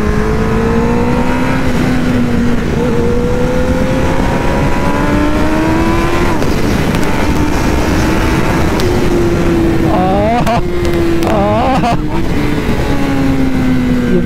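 A motorcycle engine revs hard on a race track, pitch climbing through gears and dropping at shifts, loud and close to the rider, with sharp rev bursts near the end.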